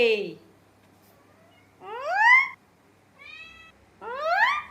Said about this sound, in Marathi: काय चिमू तुला कोणी दुधवा दिला की नाही कॅट फूड दुधवा दिला नाही दिला कोणीच नाही घरात